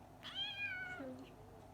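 A pet cat gives a single quiet, drawn-out meow that slides downward in pitch, close and soft against a low background hum.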